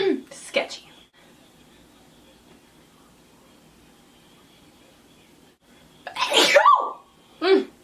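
A single sharp sneeze bursts out near the end, right after a breathy buildup and a quiet pause. Brief voice sounds come at the start and after it.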